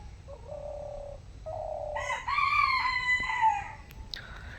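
A rooster crows loudly and close by in a village, one full cock-a-doodle-doo rising and trailing off, preceded by a softer hooting dove call.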